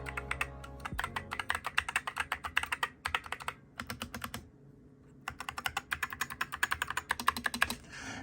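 Rapid, steady keystrokes on a custom modded keyboard with cheap keycaps, each press sharp and close, coming in dense bursts with two brief pauses, no talking.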